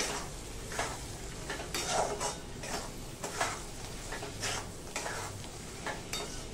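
Khandeshi-style eggplant bharit is stirred in a pan after salt is added, with repeated scraping strokes against the pan in an uneven rhythm over a soft sizzle, close by.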